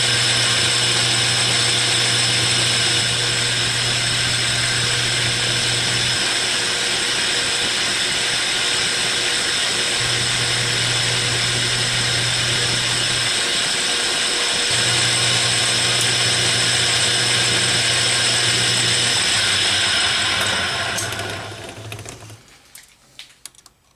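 A lathe or similar machine runs loudly and steadily while it takes a light shave off an expanding mandrel, with a low tone cutting in and out before the machine winds down near the end. No one talks.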